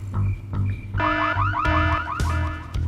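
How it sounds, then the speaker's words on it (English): An alarm goes off in Full Throttle Remastered: a loud, repeating electronic whooping siren with swooping tones over a low background hum. "Set off this alarm."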